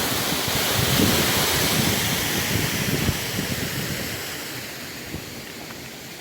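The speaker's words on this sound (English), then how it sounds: "See the water flowing over the lock gates there" Water pouring over canal lock gates, a broad steady rushing wash, loud and close, easing slightly toward the end, with no voices.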